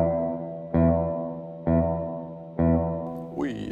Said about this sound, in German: Ui, da ist Hall. Volle Power.